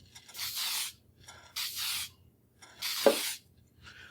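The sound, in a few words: aerosol spray can spraying onto a panel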